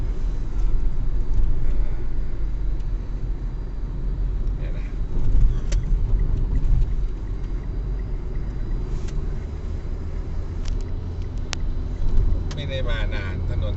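A motorcycle rides along a four-lane road toward Ban Muang district in Sakon Nakhon, giving a continuous low engine and road rumble with passing traffic. A person talks over it at times.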